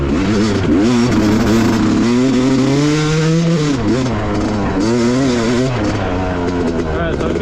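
A Yamaha YZ250 two-stroke dirt bike rides a sandy motocross track in Tennessee, its engine loud and close, revving up and down in wavering pitch through the whole stretch.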